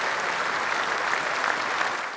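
A large crowd applauds steadily at a memorial tribute to the cricketer Phillip Hughes, a dense, sustained wash of clapping filling the whole moment without voices.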